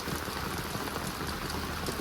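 Heavy rain pours down steadily in a village, a dense, even hiss of drops hitting surfaces with no pauses.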